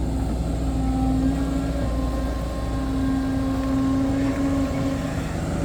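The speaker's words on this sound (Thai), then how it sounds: "อันนี้เร่งเครื่องนิดเดียวเองนะครับผม" A digging machine's engine, working on an earth-digging job, revs slightly as a steady drone with a sustained low tone, loud and close throughout, with no talking.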